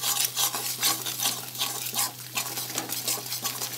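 Spice masala with a splash of water stir-fried in a pan for prawn and okra curry, with quick, repeated spatula scrapes over a wet sizzle, close and busy, and a steady low hum underneath.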